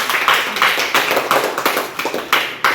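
A small group applauds, with a quick run of close hand claps that pulse in uneven bursts across a few seconds.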